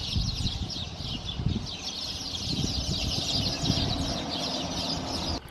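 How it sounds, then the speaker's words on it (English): A dense chorus of birds singing in palm trees in a Cyprus village, continuous high chirping and chatter over low rumbling background noise, no talk. "we had to stop the car because of the noise, beautiful noise of the birds here in the palms"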